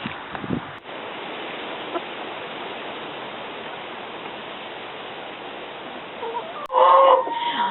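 Hens in a henhouse, soft scattered clucks in a steady noisy background, followed near the end by a louder burst of clucking close by, no speech.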